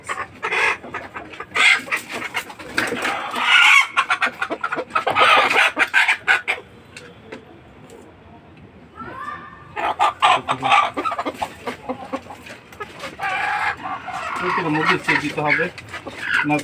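Chickens cluck and squawk in noisy bursts, close by, with quieter stretches between the flurries of calls.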